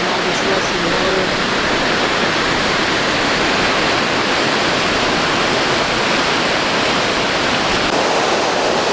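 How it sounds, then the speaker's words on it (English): A long series of small waterfalls in New Brunswick, Canada produces a loud, steady roar of rushing water that fills the whole stretch without a break. "it's this kind of long series of small waterfalls and all this rushing water."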